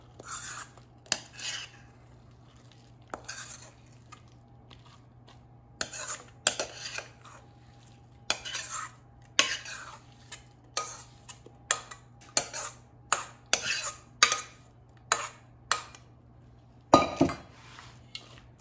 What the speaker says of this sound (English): And now let's add the batter to the baking pan.